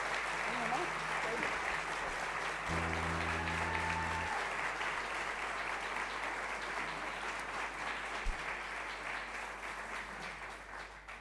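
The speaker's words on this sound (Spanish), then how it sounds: "por lo que yo les pido un gran aplauso para ellos" Sustained audience applause for an orchestra at a concert on Bolivian music, steady dense clapping filling the whole stretch with a brief sustained tone and a low thump partway through.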